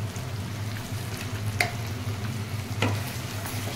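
Cumin and coriander powder being stirred in a frying pan while making bahari paneer, with a constant low sizzle and two sharp scraping strokes, close by.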